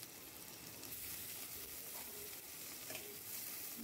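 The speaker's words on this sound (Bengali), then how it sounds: "তেলটা গরম হতে ওর মধ্যে কিছুটা আগে থেকে বেটে রাখা রসুন একটু ভেজে নেব।" Crushed garlic fries in hot oil, giving a steady, dense sizzle with occasional stirring, heard close and quiet with no talk.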